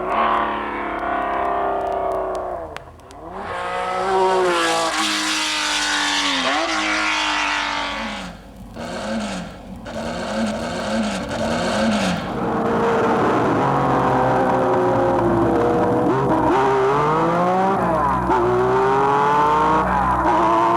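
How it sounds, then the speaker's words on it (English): A Porsche 906 race car's six-cylinder engine howls loud and close, revving up and down through repeated gear changes and rising pitch sweeps, with no talking. "when the 906 with this fascinating six-cylinder sound came in"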